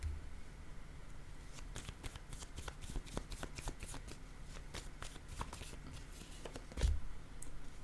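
Oracle cards are shuffled by hand in a steady stream of quick riffling flicks and slides lasting several seconds, close and clear with no talk.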